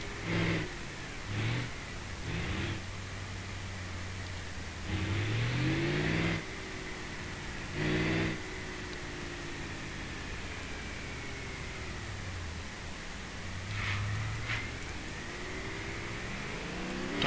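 A simulated car engine in the BeamNG.drive driving game revs in repeated rising surges while stuck in gear, loud climbing bursts over a steady engine drone and background hiss.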